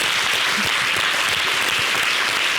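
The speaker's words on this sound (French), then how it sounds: "vous applaudissez déjà pour vous mettre un peu dans l'ambiance." A studio audience at a Christmas Eve television show applauds loudly and continuously, a dense wash of many hands clapping with no talk over it.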